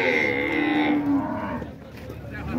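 A dairy cow at a milk-cattle fair in Dois Riachos, Alagoas, gives one long, close moo that falls in pitch and fades out, heard on its own.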